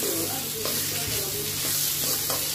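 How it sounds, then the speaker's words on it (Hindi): Chopped bottle gourd with chana dal being stirred into fried spices in a hot pan, a steady sizzle under a scraping spoon, close and fairly loud. "अभी इन्हें हम अच्छे से मसालों में मिक्स करेंगे।"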